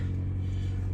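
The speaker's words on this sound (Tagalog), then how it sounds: "Pahimik muna ako ng sasakyan" A car's engine hums steadily at low pitch while the vehicle is being parked, a close, even rumble with no voices over it.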